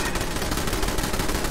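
Automated turrets open fire in the Fallout 4 video game while clearing Vault 88, delivering a steady, dense stream of rapid gunfire throughout, with a brief louder burst at the very end.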